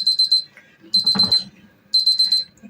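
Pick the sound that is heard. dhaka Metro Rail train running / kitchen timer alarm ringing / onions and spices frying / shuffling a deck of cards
kitchen timer alarm ringing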